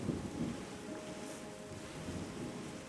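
Rain and thunder in the terraforming game Terra Nil: faint, steady rainfall hiss with a low, rolling rumble of thunder beneath, soft and continuous.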